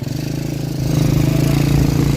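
A 100cc Rusi engine fitted to a converted Kuda tricycle runs close and loud, chugging at idle before its pulsing note rises as it picks up revs.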